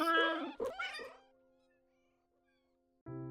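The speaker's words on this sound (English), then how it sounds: "Each cat has their own distinct meows as well, but the most important sound related feature here is the dedicated meow button." Cartoonish cat meows from the cozy cat video game Cattails Wildwood Story, a few short harmonic calls up front, then a sustained tone and a fresh meow at the end, fairly close and clear.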